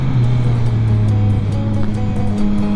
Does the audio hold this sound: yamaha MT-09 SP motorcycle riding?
yes